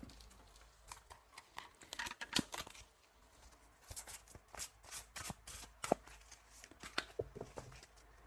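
Tarot cards shuffled and drawn by hand in a quiet room, a soft patter of papery riffles and slaps in irregular bursts, faint and close.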